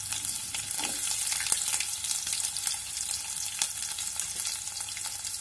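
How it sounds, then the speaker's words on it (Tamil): Small shallots and garlic sautéing in oil for a yellow pumpkin tamarind curry, a steady bright crackling sizzle close by with scattered stirring clicks throughout. "இப்போ கட் பண்ணி வச்சுருக்கிற சின்ன வெங்காயம் பூண்டு சேர்த்து நல்லா வதக்கிக்கலாம்."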